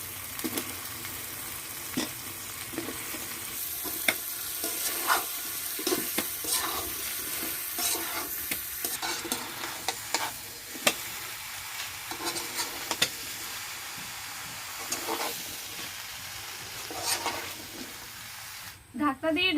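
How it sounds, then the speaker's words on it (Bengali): Snake gourd frying and being stirred in a spice masala, a soft continuous sizzle with intermittent scraping and clinks of the spoon against the pan, someone speaking over the cooking. "মশলাটা ভালোভাবে কষিয়ে নিয়ে চিচিঙ্গাগুলো দিয়ে দেবো।"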